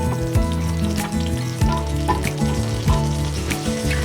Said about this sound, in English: Stir and well combine beech mushroom and tomatoes together for about a minute to 2.